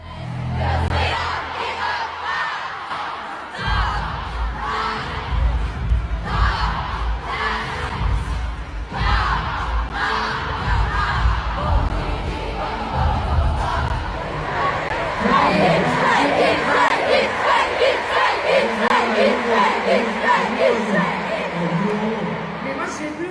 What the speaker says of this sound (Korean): 프랑스 여성 관객들이 외치는 떼창과 비명은 거의 미쳤다라는 표현이 어울릴 정도였습니다